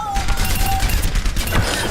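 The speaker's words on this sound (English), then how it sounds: "So he has this machine gun" Rapid machine gun bursts from a hero's weapon in Overwatch, loud and close, a dense rattle of shots running almost without pause.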